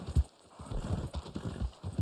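Horse hooves clip-clopping in the Wild West video game Red Dead Online, an uneven run of close, thudding hoofbeats over two seconds with no talk.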